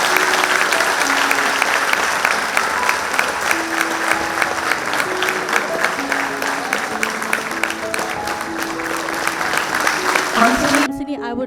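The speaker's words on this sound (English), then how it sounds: "Can we have a huge round of applause for them?" Sustained applause from a crowd at a graduation ceremony as parents are called on stage, steady and full for about eleven seconds, with faint voices beneath, ending abruptly.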